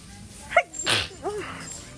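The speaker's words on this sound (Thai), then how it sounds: "จาม" A single sharp, close human sneeze bursts out near the middle, with a short breathy intake and a faint voice murmur around it, indoors at a second-hand shop in Canada.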